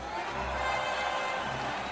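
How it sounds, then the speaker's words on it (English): A studio audience cheers and applauds for an arriving guest, a steady wash of clapping and whooping voices held at a moderate level throughout. "let's give an applause to Dr."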